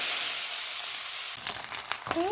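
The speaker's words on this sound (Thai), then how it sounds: "ต่อไปก็จะเอาไปผัดเนาะ" Sliced mushrooms hit hot oil in a pan while a Lao-style duck larb is being prepared, a loud steady sizzle that breaks into crackling and a few sharp stirring clinks near the end.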